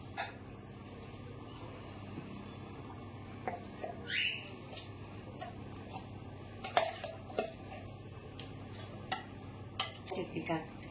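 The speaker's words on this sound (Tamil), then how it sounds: "நல்லா கலக்கி விட்டுக்கணும்." Green gram dosa batter is stirred in a vessel, giving soft, quiet scraping and sloshing with scattered light clinks and taps, faint and close by.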